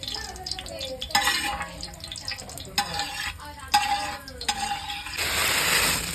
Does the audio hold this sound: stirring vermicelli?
yes